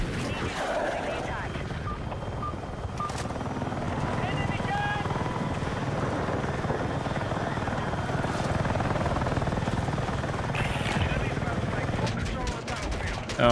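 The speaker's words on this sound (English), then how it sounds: "Waiting for this helo to make its way back." Helicopter rotor and engine noise from the Battlefield 6 video game, a steady loud drone across the clip with scattered gunfire and other battle sounds mixed in, and a player's voice talking over it.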